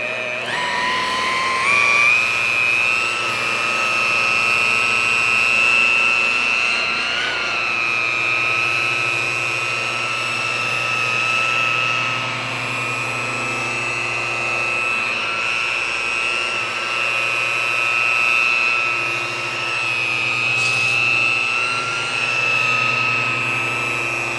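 A rotary polisher buffs oxidized gelcoat on a boat, a loud, steady high-pitched motor whine with a constant pad drone that holds, with slight wavering, for over twenty seconds, up close and with no talking.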